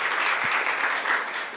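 Audience applause fills a conference hall after a talk on zero-knowledge proofs and Bitcoin, a dense, steady burst of clapping from many hands that holds evenly throughout with no voices over it.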